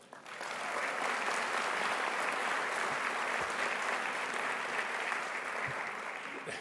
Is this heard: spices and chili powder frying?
no